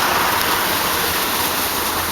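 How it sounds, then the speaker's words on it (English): Storm water runoff from a housing development pond pours in a loud, constant rushing roar, close by and steady, with no voices. "this is the amount of water coming from the Holly House"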